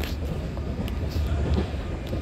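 A Hanshin rapid express train creeping along for coupling at a station platform, a low rumbling roll with soft clanks and wind buffeting the microphone, heard close and continuous.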